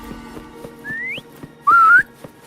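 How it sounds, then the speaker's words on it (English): Two short rising whistles in the Wuthering Waves game, the second louder and wavering, sound clearly over soft rhythmic ticking in the background. "Try whistling."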